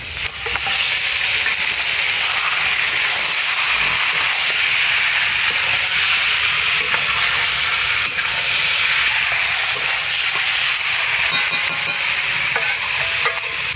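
Chicken pieces hit hot spice masala in a village kitchen and fry with a loud, continuous hiss and crackle, close up and unbroken for the whole stretch, with stirring noises and no voices.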